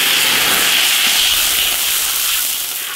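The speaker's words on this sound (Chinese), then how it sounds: "糖色冒泡，加点水。" Water hits bubbling caramelized sugar in a wok and sets off a loud, sustained hiss and sizzle that fades slightly toward the end.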